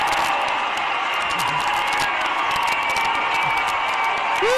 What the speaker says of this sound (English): that fired up the crowd